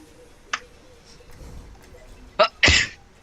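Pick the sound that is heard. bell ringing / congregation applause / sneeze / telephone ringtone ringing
sneeze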